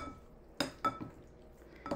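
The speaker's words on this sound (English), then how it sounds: "So we will just mix this up a bit" Beef being mixed in a bowl for ginger beef and mushroom noodles, giving a few light clinks and scrapes of a utensil against the dish, close and sparse with quiet pauses between.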